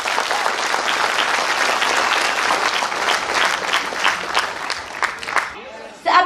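An audience at a company event applauds: dense, sustained clapping from a large crowd, loud and steady before thinning near the end, with a voice briefly cutting in at the close.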